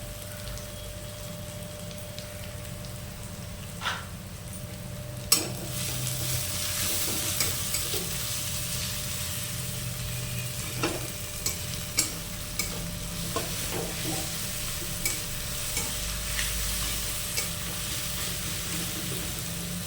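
Onions and sugar fry in a pan for a rohu fish curry, a soft continuous sizzle with occasional sharper taps and scrapes of a stirring utensil, close and even.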